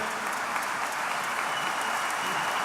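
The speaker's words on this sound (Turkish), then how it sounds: "teşekkür ediyorum değerli alkışlarınız için" Continuous, even applause from a concert audience at a symphony orchestra's 85th anniversary gala, a uniform wash of many hands clapping at moderate distance with no talk.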